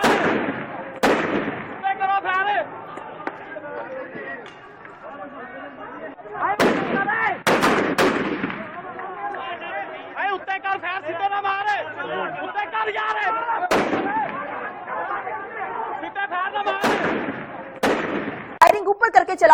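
Sharp gunshots crack out in scattered bursts, some close and loud, over continuous excited shouting and chatter from a crowd.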